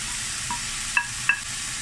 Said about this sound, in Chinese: 啲冬菇同埋瘦肉咧，我哋炒一炒佢爆香咗佢咯喎